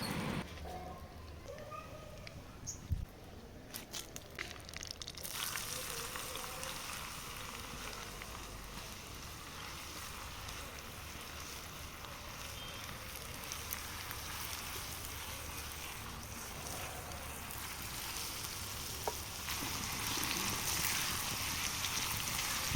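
Mustard seeds, cumin, dry red chillies and garlic paste sizzle in hot oil for a pickle tempering, a continuous crackling hiss with a few sharp pops and knocks near the start.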